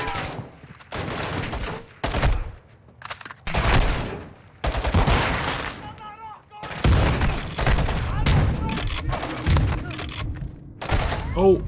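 Gunfire from the video game Call of Duty: Modern Warfare 2 (2022): repeated bursts and booming shots in loud clusters with short gaps, mixed with game voices and talk.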